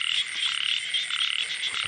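Frogs croak in a dense, rapid, rhythmic chorus, loud and close, with a steady pulsing churr and no voices over it.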